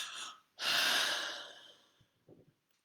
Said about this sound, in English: I'm yawning, letting it go.